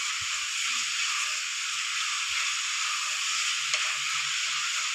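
Onions sautéing in a pan with a teaspoon of salt, stirred over low flame for a green peas curry: a steady, close sizzling hiss throughout with a few faint scraping stirs, no talking.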